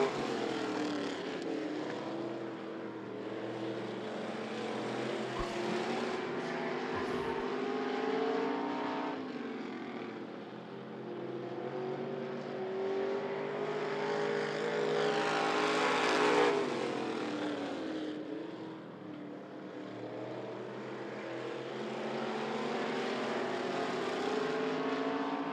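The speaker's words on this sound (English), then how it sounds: "Smith out in front in the 112, but Greg Humphrey in the 9 car running in a very close second." Race cars at I-75 Raceway roar around the track in a dense, continuous engine drone that swells and fades as the pack passes, loud and sustained throughout with no talk.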